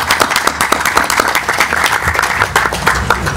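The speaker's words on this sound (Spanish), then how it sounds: "para quien pido un fuerte aplauso, por favor." Vigorous applause from attendees at a citizen security committee meeting, with closely spaced, energetic claps from a room full of people continuing steadily throughout.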